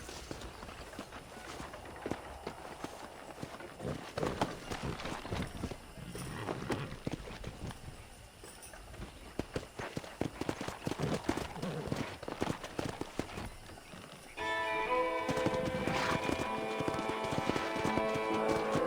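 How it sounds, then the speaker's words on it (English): Hooves clatter in a fast, rolling rhythm as horses gallop in the video game Red Dead Redemption, joined near the end by a bright musical swell. "Let's see if we can't wrangle some horses."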